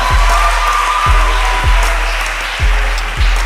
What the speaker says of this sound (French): Je vous prie de faire un maximum d'applaudissements